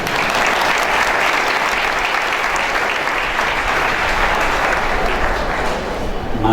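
A large audience at a speech event claps steadily and densely, a continuous roar of applause at full strength that barely dips before tailing off slightly at the end.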